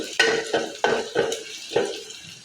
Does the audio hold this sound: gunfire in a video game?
no